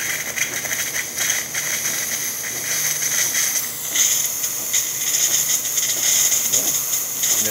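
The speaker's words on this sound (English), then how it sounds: "There's that steam for you." DeLonghi Magnifica espresso machine steam wand running from cold, a steady close hiss with faint sputtering that grows slightly stronger over several seconds, no talking.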